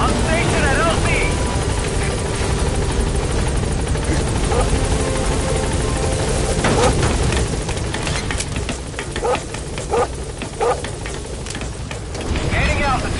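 The Pequod helicopter from the video game Metal Gear Solid 5 hovers near a landing zone, its rotor thumping loudly and steadily throughout while radio voices talk over it.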